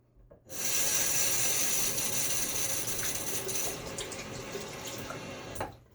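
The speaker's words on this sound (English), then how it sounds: "Add just a little bit more water." Water gushes from a tap after a short quiet start, running steadily and close for several seconds before easing off.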